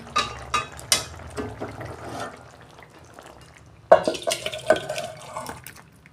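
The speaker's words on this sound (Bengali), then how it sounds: "আমার তরকারি হয়ে গেছে, ঢেলে ফেলছি।" Cooked tengra fish curry with potato and eggplant is poured out of a pan. Faint wet clatter gives way to a sudden louder pour with spoon scrapes and knocks against the pan near the end.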